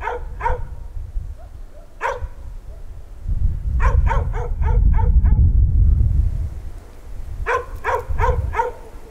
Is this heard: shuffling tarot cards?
no